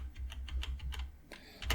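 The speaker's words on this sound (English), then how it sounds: "just tap 1 on the keyboard" Keys tapped on a computer keyboard while sculpting in ZBrush: a quick run of light, close clicks in an uneven rhythm, quiet and without speech.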